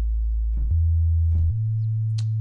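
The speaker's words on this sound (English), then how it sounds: "You can double up your sine wave there" A steady, deep sine-wave sub bass synth in FL Studio holds low notes, stepping to a new pitch twice, with a couple of faint clicks and a brief high chirp near the end.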